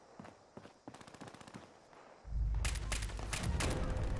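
Gunfire in the Fallout 76 Mothman Equinox event as totems are destroyed: a few spaced shots and thuds at first, then a dense, louder burst of rapid repeated fire over a rumbling low background.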